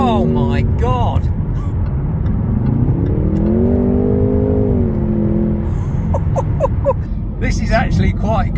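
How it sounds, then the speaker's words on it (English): A Jaguar F-Type 2.0 accelerating hard up to 70 mph, the engine note climbing steadily through a long rising pull with shifts along the way, loud and close from inside the cabin, with someone talking over the start and end. "I'm going to give it the beans for a little bit now and go to 70"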